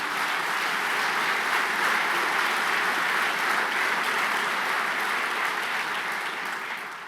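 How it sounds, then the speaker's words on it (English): A large audience applauds at a mayor's address in New York City, a dense, sustained roar of clapping at a steady level that fades slightly toward the end. "Please give them a round of applause to thank all of them."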